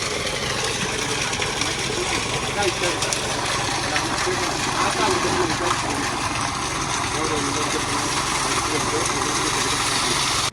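Motor-driven pump runs steadily while draining water out of a pond, a continuous engine drone mixed with gushing, splashing water that stays loud and unbroken throughout.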